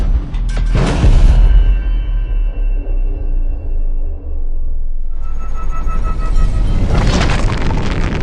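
A .45 hollow point round fired through an apple gives a deep, loud boom with a long rumbling tail, followed seconds later by another heavy burst of blast-like noise, close and with no speech.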